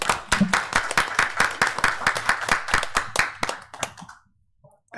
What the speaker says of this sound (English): Let's give a round of applause again, please.